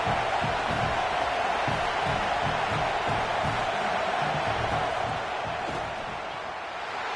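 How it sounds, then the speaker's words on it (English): At an NCAA football game, a stadium crowd cheers and roars during a long field goal attempt, producing a broad steady wash of noise that fades slightly at the end. "This crowd trying to do its part to get inside the kicker's head."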